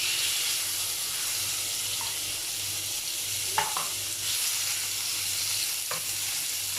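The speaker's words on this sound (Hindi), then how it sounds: "चिकन को स्लो फ्लेम पे मैं थोड़ा सा सौटे कर रही हूँ।" Chicken sautés over a slow flame in a pan with oil, giving a soft, steady sizzle with a few faint stirring scrapes and taps.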